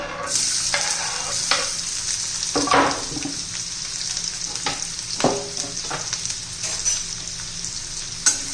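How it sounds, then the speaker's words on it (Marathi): Onion sizzles and fries in a spoonful of hot oil in a pan, a steady crackling hiss broken by repeated clinks and scrapes of a spoon stirring it close up. "तेल आपलं आता गरम झालेलं आहे कांदा घालून घेऊया"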